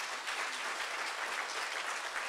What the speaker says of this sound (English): we can applaud the tremendous work that they do